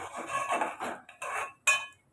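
A metal ladle scrapes and clinks against a pot of Tamil coconut curry in a few short strokes, ending with a sharper clank.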